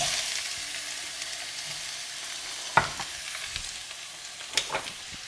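Onions frying in a couple of tablespoons of light olive or sunflower oil in a hot pan, a steady close hiss of sizzling with a couple of sharp spatula clicks.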